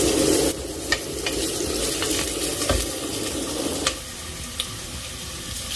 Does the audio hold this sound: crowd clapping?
no